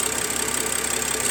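A BMW N55 engine idles unevenly because of faulty injectors on cylinders one, four and six. The steady, close mechanical drone pulses and wavers slightly, with no talking over it.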